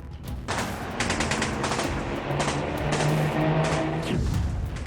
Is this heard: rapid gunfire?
yes